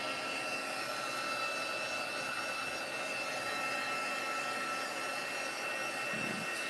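A heat tool blows steadily at close range while it melts black embossing powder on a craft project, giving a continuous loud, even rushing hiss with no pauses.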